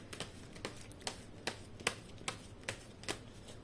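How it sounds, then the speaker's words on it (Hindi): Tarot cards are shuffled in a series of sharp, evenly spaced slaps and riffles, about two per second, close and fairly loud with no talking. "बार बार कार्ड्स जो है नीचे गिर रहे हैं।"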